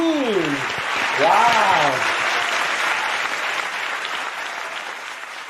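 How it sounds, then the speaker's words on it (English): Audience applause at the 4th Hyojeong Peace Festival, a broad sustained clapping from a crowd that fades gradually, with a voice exclaiming over its opening seconds. "please give another round of applause for our Cambodia team"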